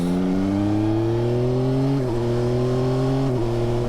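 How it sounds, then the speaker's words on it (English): A Yamaha Tracer 9 GT motorcycle engine pulls steadily and loud, its rising drone dipping briefly at two smooth gear shifts before climbing again. "That's a really nice shift. Very smooth."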